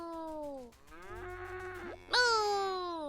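Three drawn-out moos in a row from a cow in the video game Everything, each with a bending pitch, the last one louder and brighter, heard alone with no talking.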